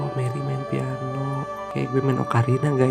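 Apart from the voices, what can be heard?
No everyday noises stand out.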